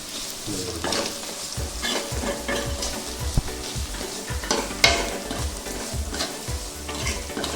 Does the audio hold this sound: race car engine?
no